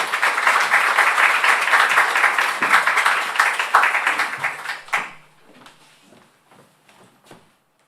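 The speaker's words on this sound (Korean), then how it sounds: "조다니엘 선교사님 나오실 때 박수를 한번 환영해 주시길 바랍니다" Church congregation clapping to welcome a visiting missionary at a Sunday service. Moderately loud applause runs for about five seconds, then fades to a few scattered claps.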